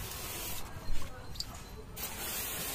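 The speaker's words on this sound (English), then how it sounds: "pressure easily reaches front tire from rear side of my Celerio when sprayer gun is fully pressed" A Fieldstar portable washer's sprayer gun hisses steadily as it blasts water under the chassis of a Maruti Celerio, pressure reaching from the rear toward the front tire, a continuous broadband spray with a brief splashy burst midway.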